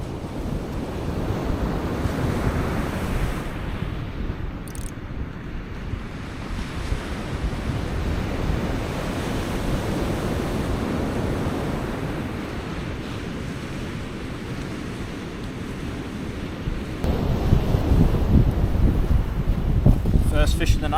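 Sea waves wash onto a Northumberland shore at night during cod fishing near a power station, a steady loud roar with wind buffeting the microphone, the surf swelling louder near the end.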